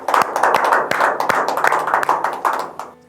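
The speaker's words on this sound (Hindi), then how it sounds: "जोरदार तालियों में स्वागत कीजिए शुभम द्विवेदी का।" Brisk applause from a small studio audience welcomes a poet, many hands clapping unevenly at close range before tapering off at the end.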